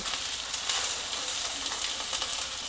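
Small pieces of flour dough tossed in hot oil in a pan give a steady, close sizzle and frying hiss throughout, with light stirring and scraping and no talking.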